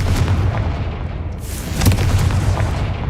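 A Confringo blasting spell explodes in the video game Hogwarts Legacy, giving a loud, booming blast with rumbling low end that swells again midway, with no voices.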